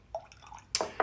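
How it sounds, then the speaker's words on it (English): A small splash of water dripping into a glass of whisky, two soft liquid plops near the end after a quiet start, close and fairly faint with no talk. "I'm going to drop a bit of water in there."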